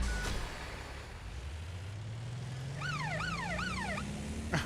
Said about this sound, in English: I just like the sirens.